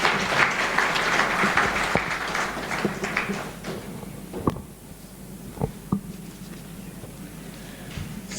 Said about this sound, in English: Let's have a round of applause for this.